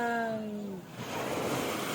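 Sea waves washing onto a beach make a steady broadband wash that builds after a brief voice fades, close and continuous for the rest of the moment.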